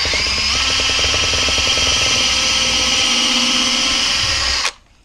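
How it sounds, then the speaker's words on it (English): A drill bores down through the top of a wooden mallet head into an existing hole, a close, loud, steady whine lasting several seconds before cutting off sharply. "we're going to go ahead and drill down through the top"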